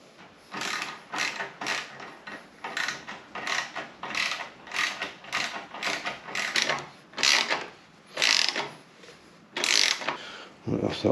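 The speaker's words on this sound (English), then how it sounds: "now I'm going to go ahead and tighten all this one down" Exhaust fittings being tightened on a Kawasaki ZZR1400 motorcycle, a steady run of close ratchet clicks in repeated short bursts, fairly quiet and without talk.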